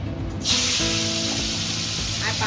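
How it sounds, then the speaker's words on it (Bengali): Round potato slices drop into hot oil and set off a loud, steady hiss of frying that fills the whole moment, with a low background hum underneath. "গোল গোল আলুগুলো ভেজে নেবো"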